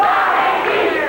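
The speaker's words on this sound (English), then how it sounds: "Crowd on Larry Wright a little bit." Crowd at a CWA Memphis wrestling match jeering Larry Wright, a loud continuous wash of shouting and booing voices filling the arena.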